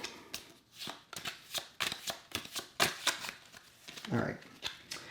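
Rapid riffle shuffling of Star Wars: The Deckbuilding Game cards, a series of crisp fluttering bursts repeated several times, close and fairly loud with soft voices in between.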